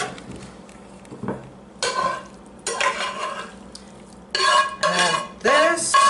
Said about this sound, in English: I had to put the noodles in a bigger bowl so that I could stir it all together